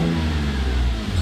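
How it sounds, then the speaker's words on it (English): A BMW 323i E46 with an M52 engine and MS42 ECU holds at a launch-control rev limit, a loud, close, steady engine drone that dips briefly near the end. "And if it hits 3500 RPM, it should cut off."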